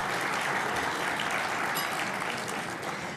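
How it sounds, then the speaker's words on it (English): Applause from a crowd at an awards luncheon, a sustained, even patter of many hands clapping throughout that softens slightly toward the end, with no speech on top. "I think that's worth some applause."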